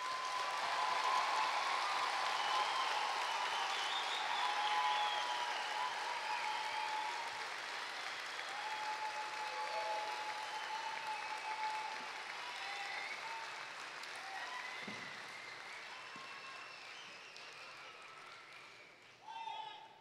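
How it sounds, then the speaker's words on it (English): Graduates and guests at a business school convocation ceremony applauding, a broad sustained wash of clapping with a voice speaking over it, slowly fading before a brief final burst. "I think all you guys deserve a great hand of applause"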